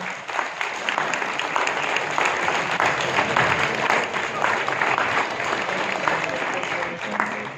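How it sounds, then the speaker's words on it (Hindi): Sustained applause from a seminar audience in Kasrawad, many hands clapping densely and evenly for several seconds at moderate loudness, with some crowd murmur mixed in. "मैं डॉक्टर मनीष पाटीदार सर से रिक्वेस्ट करता हूं उनके लिए तालियां हो जाएं"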